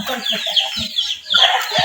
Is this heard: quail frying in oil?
no